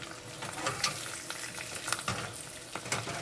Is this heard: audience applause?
no